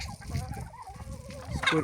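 Chickens cluck softly and continuously nearby while being fed wheat, in a short, busy burst of bird sounds.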